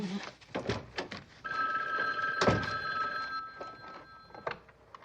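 An old-style telephone bell rings in bursts in an indoor setting, fairly quiet and slightly distant, with a few soft knocks between the rings.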